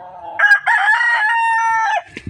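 Close, loud crow from a conditioned fighting stag rooster: a single long cock-a-doodle-doo that rises and holds before breaking off, followed by faint rustling.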